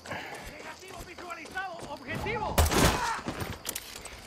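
Gunfire crackles in the video game Far Cry 6 as a burst of several sharp, close shots over background game sounds, following a stretch in which someone talks.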